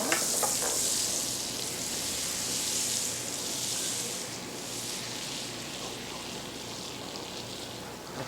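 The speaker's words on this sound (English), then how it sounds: "so I can stir this for you as this is" A butter mixture being stirred in a pot, heard as a continuous soft sizzling, bubbling wash that fades slightly over time, with no speech over it.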